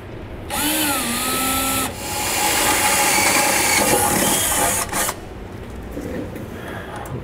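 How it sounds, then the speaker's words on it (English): A power drill whines steadily at high speed for several seconds drilling a bracket hole while installing a trailer brake actuator, pitch rising briefly at the start, then cuts out leaving a quieter hum. "we're gonna need to drill a hole that's for our bracket to sit down into"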